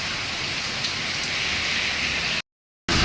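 A downpour two days long, with water pooling across the road and farm fields, gives a dense, continuous rush of rain that cuts out briefly to silence before returning just as strong; no one speaks.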